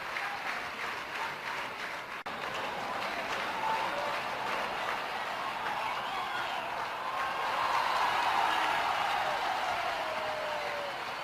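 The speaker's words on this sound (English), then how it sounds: "Fine applause for Menjrekar." Cricket stadium crowd applauding a batsman at Sharjah during a 1991 Pakistan versus India match, a broad, distant wash of clapping and crowd noise that swells slightly toward the end.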